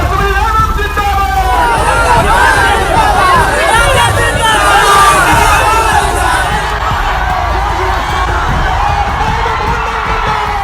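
Large outdoor political rally crowd for Tejashwi, cheering, shouting and chanting loudly and continuously, with a dense mass of voices.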